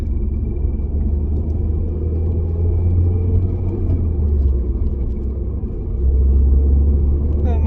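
A DS3 car fitted with a performance boost pipe upgrade drives around the block, its engine making a steady, loud low rumble and drone from inside the cabin that swells slightly near the end.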